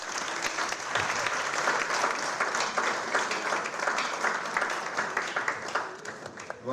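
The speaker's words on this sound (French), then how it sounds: "On applaudit très fort." Loud, steady applause from an audience at a general assembly of the Order of Engineers of Congo, dense clapping filling the room throughout with a faint voice or two underneath.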